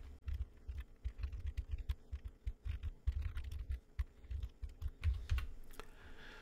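Rapid typing on a computer keyboard in a quiet room as a command is entered into a Linux terminal, with irregular bursts of close, crisp key clicks and no talking.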